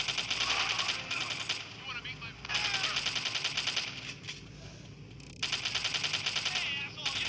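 An AK-47 fires rapid automatic bursts in the video game GTA Chinatown Wars, loud rattling volleys broken by short pauses, with someone shouting over the gunfire.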